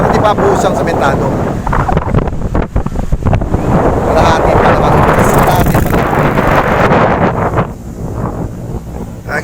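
Strong waves and gusty wind at San Fabian beach, a loud, continuous roar of surf with heavy wind buffeting the microphone and a voice talking over it.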